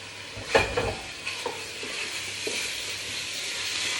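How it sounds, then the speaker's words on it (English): Caribbean soup ingredients, dried thyme among them, stirred and frying in a pan: a few close scraping clatters early on over a steady hiss of sizzling, with no talking. "I'm going to give everything a good stir."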